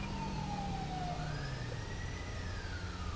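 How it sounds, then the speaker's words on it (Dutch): A wailing emergency siren, an ambulance-style tone in GTA 5 with a Belgian police mod, sweeps slowly up and down over steady engine rumble, fairly loud and continuous without speech. "die sirene die je nu hoort, ik weet niet of dat een ambu sirene is in België."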